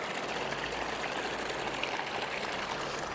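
Water flows and trickles steadily along a creek at a gold-prospecting spot near Nundle, Australia, a continuous close wash with no voices.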